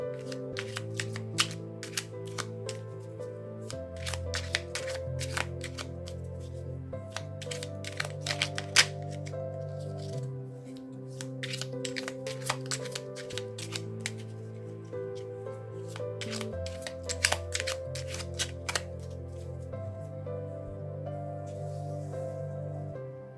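A deck of Magick Soul oracle cards by Eve Korrigan is shuffled for a reading, a repeated rapid riffling and flicking of cards in bursts over soft background music, close and moderately quiet.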